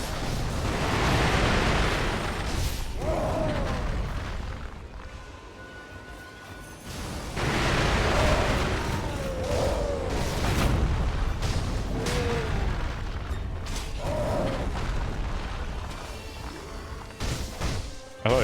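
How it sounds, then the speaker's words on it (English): Fireworks exploding in the video game Sekiro, a dense stretch of booming blasts and crackling bursts with a loud, continuous roar and a few sharp pops, no speech. "I thought these guys didn't like fireworks."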